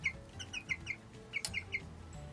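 Six-week-old Sapphire Gem chicken clucking while held in someone's hands, a series of short, repeated chirpy clucks at an uneven rhythm, close and fairly soft, with no talking.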